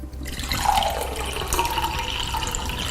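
Freshly made juice is poured from a juicer jug into a container, a continuous close liquid trickle and splash with gurgling, steady for a few seconds with no talking.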